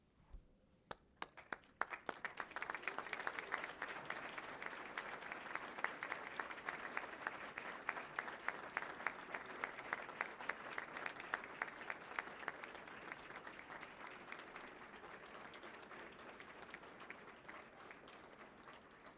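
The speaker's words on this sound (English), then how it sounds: "I now invite you, the graduates, to stand and turn and face those individuals, families, partners, and friends" Graduates at a Saint Mary's University of Minnesota commencement applaud their families, with scattered claps building quickly into sustained crowd applause that fades gradually, heard at a distance with a soft hall echo.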